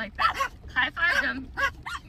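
Dogs on a trail in the Black Hills let out several short whimpers and yips, with a few barks mixed in, up close and repeated in quick bursts.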